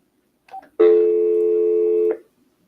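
A telephone line's out-of-service signal: a short tone blip followed by one loud, steady tone lasting over a second, then silence.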